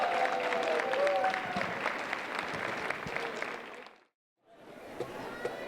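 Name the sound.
audience applause at a school multicultural showcase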